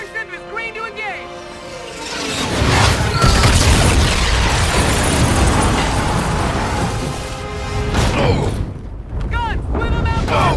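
Warship guns firing in Call of Duty: Infinite Warfare, heavy booming blasts and rolling rumble that build and sustain across the scene, mixed with shouted radio voices and combat noise.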